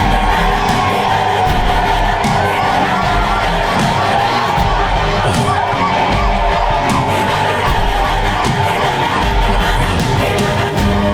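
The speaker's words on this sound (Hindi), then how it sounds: "जनता की दाद सुनाई दे रही है?" A large public crowd in a movie scene roars and cheers continuously, a dense, loud wall of voices with shouts rising throughout.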